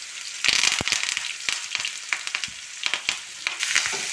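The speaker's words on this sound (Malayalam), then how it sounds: "ഇനി നമുക്കിതിലേക്ക് വെളുത്തുള്ളിയും ചുവന്നുള്ളിയും ഇട്ട് കൊടുക്കാം കേട്ടോ." Garlic, shallots and curry leaves fry in coconut oil, a close, loud crackling sizzle with sharp popping bursts and spatters scattered across it.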